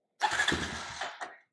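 A quad ATV engine sputters briefly as it starts with a hand held over the carburetor, a short rough burst with a second small catch at the end, close and fairly loud.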